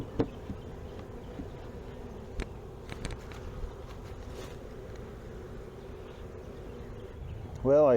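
Honey bees droning around a hive during a move to a Langstroth hive after the queen has flown off, a steady low hum under faint talk, ending with a brief louder burst.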